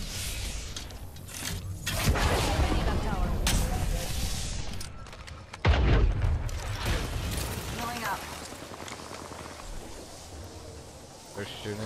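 Gunfire in the Apex Legends battle royale game, scattered bursts of shots and sharp impacts among in-game effects, loud and close, with players talking over much of it.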